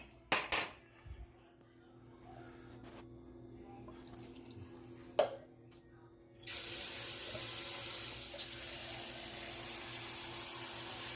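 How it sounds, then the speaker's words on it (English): Tap water runs steadily into a cooking pan while smothered cube steaks are being made. It begins after a few clinks of utensils and dishes, then continues as a loud, constant rush until the end. "So I'm going to add some more water"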